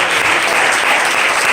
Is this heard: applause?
yes